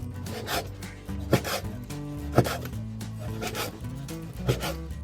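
A knife chops pork fat rapidly and repeatedly against a board with a steady rhythm, while low background music plays underneath.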